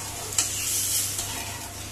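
Potato and cauliflower with spices sizzle steadily in a pan, a dense close-up hiss with light stirring scrapes near the start and no voices.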